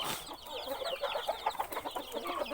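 Clucking from a young Thai fighting rooster, about seven months old, repeated in short close calls over a steady farmyard background with no talking.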